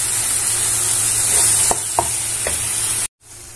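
Mango and ginger pickle sizzles steadily in hot oil, a close bright frying hiss with a few scraping stirs of a spoon, cut off briefly near the end.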